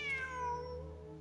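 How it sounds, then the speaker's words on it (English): A cat meows in Genshin Impact, one clear high mewing call at the start that trails off over a steady hum of game music, with no talk. "Wait, there it is! The cat!"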